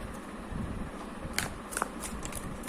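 Tarot cards riffled and shuffled by hand before a single card is drawn, soft continuous papery flutter with a few crisp snaps near the end, close and quiet.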